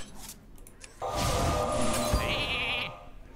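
Polymorph spell in Hearthstone turning a minion into a sheep: a sparkling magical chime swells and carries a bleating cry for about two seconds, loud and close, with quieter game sounds before and after.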